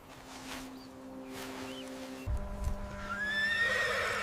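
A wild horse neighs in a loud, drawn-out whinny that rises and wavers near the end, following a low thump and soft rustling, with no voices.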